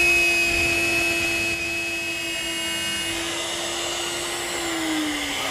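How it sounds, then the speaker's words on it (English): A router table fitted with a 1/4-inch spiral bit runs at a steady high-pitched whine while routing a groove between mortises in a Mission-style desk part, loud and continuous with a slight pitch drop near the end. "I've set up my router table with a 1/4-inch spiral bit. And what I'm going to do is drop this mortise right over the bit, start it up"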